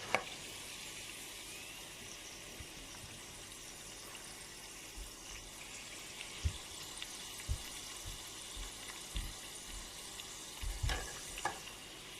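Potatoes fry in hot oil with a steady, close, even sizzle, while soft low knocks and light clatters come through now and then toward the end and no one speaks.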